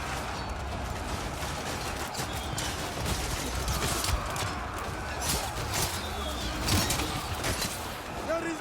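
Ranged units loose massed volleys in a Total War: Pharaoh battle, a dense, continuous crackle of arrows and clashing mixed with battle ambience, steady and loud throughout, with a voice talking over it.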